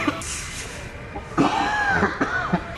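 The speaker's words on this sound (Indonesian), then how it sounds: "Batuk." A few close coughs come in quick succession, roughly three throaty bursts spaced about half a second apart after a quieter moment, loud and near in a room.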